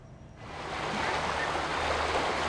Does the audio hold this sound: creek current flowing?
yes